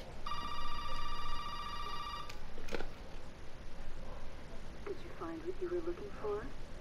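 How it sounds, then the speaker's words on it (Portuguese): In Resident Evil 7, an in-game telephone gives one long electronic ring lasting about two seconds, followed by a sharp click. Someone speaks afterward. "vamos atender esse telefone aqui"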